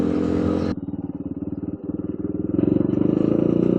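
A cheap street-legal 250cc dirt bike ridden in fifth gear at around 4,000 RPM and 30 mph, its single-cylinder engine thumping steadily up close with wind noise, briefly easing off and then pulling harder.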